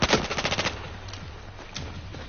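A Lewis M1917 machine gun fires in Battlefield 1. A rapid burst of about eight sharp, close shots opens, then fainter scattered gunfire and rumbling battle noise carry on in the background.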